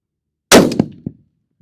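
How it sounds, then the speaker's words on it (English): A crossbow shot fired from the ground on a range: a single sharp, loud crack and clang on release or impact, followed by a couple of quick, fading rattles, with nothing else around it. "So how about we send a shot downrange and see where we're at."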